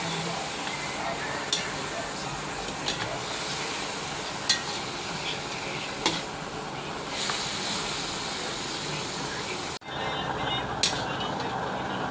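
Pork spare ribs are stirred in a pan: a soft, steady sizzle and hiss runs throughout, broken by a few light spoon clicks and one brief drop in level near the end.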